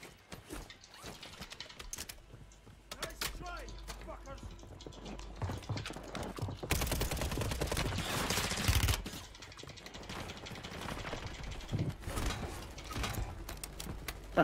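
Gunfire in Call of Duty Modern Warfare III, with rapid bursts of shots and a dense heavy barrage in the middle, mixed with game sounds and chatting players throughout.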